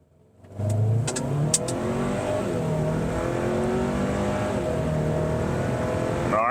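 A 2023 Hyundai Santa Cruz in sport mode launches hard from a standstill, its engine note rising and holding loud and steady as it pulls through the run, close up and with no talking.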